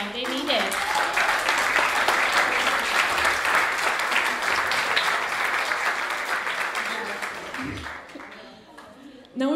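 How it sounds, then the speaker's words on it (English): Audience applause fills an award ceremony at a youth film festival, sustained dense clapping that holds steady for several seconds before tapering off near the end. "So give them applause now."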